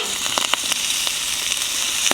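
Bacon frizzling in a pan, a steady close sizzle with scattered sharp crackles and pops throughout.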